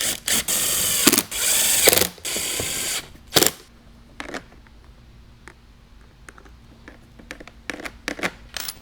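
Screws go in as an MB Quart speaker is mounted in a Jeep Wrangler JL or Gladiator JT. There are several loud bursts of a power driver, each a couple of seconds long, then quieter scattered clicks and ratcheting up close.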